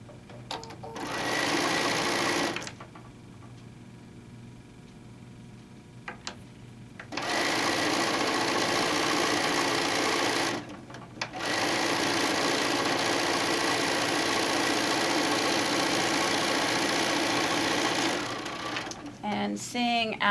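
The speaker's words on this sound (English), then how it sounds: "I'm going to stitch my 2 skinny rectangles together first." A sewing machine runs in long bursts as it stitches two skinny rectangles of quilt fabric together, its fast mechanical whir loud and close, stopping briefly between runs.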